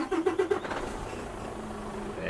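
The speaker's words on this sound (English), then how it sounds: "I'm going to go ahead and fire up the engine so you can hear this beautiful truck again." A heavy truck engine in American Truck Simulator cranks and catches with a few rhythmic chugs, then settles into a steady low idle.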